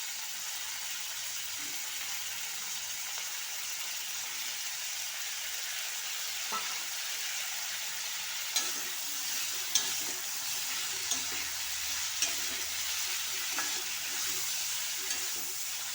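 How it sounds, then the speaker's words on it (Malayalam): Cleaned whole small crabs fry in hot oil in a pan while being stirred, giving a steady close sizzle with occasional scraping clicks from the utensil. "അതിലേക്ക് നമ്മൾ ഈ ക്ലീൻ ചെയ്ത് തയ്യാറാക്കി വെച്ചിരിക്കുന്ന ഞണ്ട് അങ്ങോട്ട് ഇട്ട് കൊടുക്കുകയാണ്."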